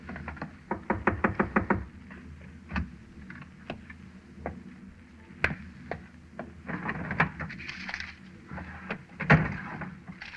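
A quick run of sharp knocks on a wooden cabin door, followed by scattered single knocks and faint bumps, close and clear with no voices.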